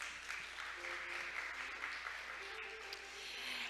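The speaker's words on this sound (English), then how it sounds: "Why don't we give Mr. Shin another big round of applause?" Conference audience applauding Mr. Shin after his presentation on biofouling management: a faint, distant patter of clapping spread evenly throughout, with a soft tonal murmur in the background.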